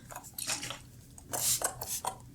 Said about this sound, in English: That was a powerful spritz